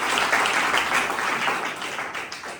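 A church congregation at a Hindi-language sermon on baptism claps loudly and continuously in a dense, energetic burst that tapers slightly at the end.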